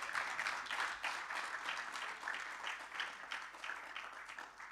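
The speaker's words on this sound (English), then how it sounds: "A round of applause." Audience applause at an annuity plan launch event, a steady, moderately loud patter of many hands clapping with a faintly pulsing rhythm and no talk over it.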